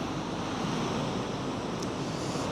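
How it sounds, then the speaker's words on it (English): Ocean surf washes steadily onto a beach under strong, continuous wind noise, loud and unbroken. "A bit closer to the waves."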